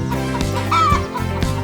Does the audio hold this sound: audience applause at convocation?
no